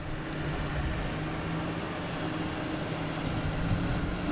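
A British Airways airliner on its takeoff roll at Boston Logan gives off a steady, broad roar of jet engines. It holds at a constant, moderate level for the few seconds heard, with no voices.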